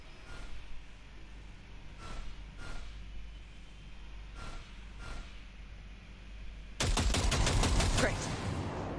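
Gunfire at a shooting range in the Cyberpunk 2077 video game: several separate single shots at spaced intervals, then a loud, fast burst of rapid fire near the end.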